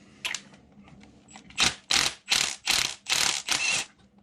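An impact gun loosening a fork bolt on a Yamaha R6 motorcycle: one brief burst, then five short, loud, closely spaced rattling hammer bursts in quick succession, heard nearby and without talk.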